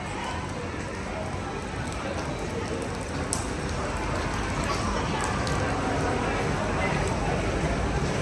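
Rain falls steadily in Senado Square, downtown Macau, a dense, even hiss that fills the whole clip, with faint voices of passers-by mixed in.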